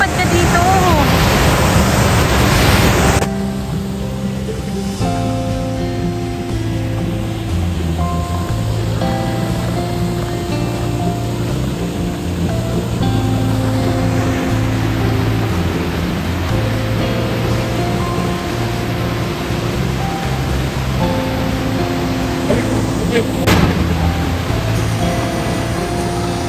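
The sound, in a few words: Dunsulan Falls waterfall in Bataan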